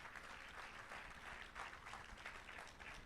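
A church congregation applauding steadily, a dense continuous wash of clapping heard from a distance, fairly faint and even throughout.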